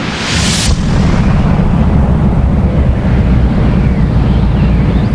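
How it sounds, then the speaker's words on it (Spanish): A dying giant star's supernova explosion rendered as a loud burst that opens with a brief bright blast, then settles into a sustained deep rumbling roar that holds steady to the end. "cuando una estrella gigante se apaga, lo hace con una explosión"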